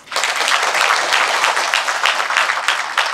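An audience at a Samcheok ceremony for the Mr Gangwon contest claps steadily and loudly, a dense patter of many hands that holds at full strength from start to finish.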